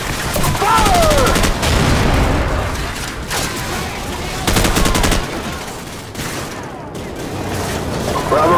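Heavy gunfire in Call of Duty 4: Modern Warfare's War Pig mission, loud bursts of automatic fire and booms in repeated volleys, with shouted voices between and over the shots.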